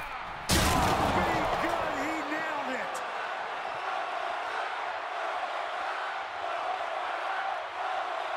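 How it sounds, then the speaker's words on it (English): A loud, roaring arena crowd at a WWE 2K22 wrestling match cheers continuously after a sudden burst, with a commentator talking over the steady din. "The sound of this crowd is deafening"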